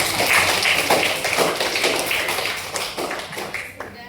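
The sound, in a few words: audience clapping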